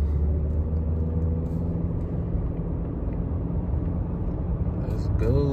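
A 2024 Honda Accord EX with a CVT accelerating, a steady low engine and road rumble heard from inside the cabin, with a voice speaking briefly near the end.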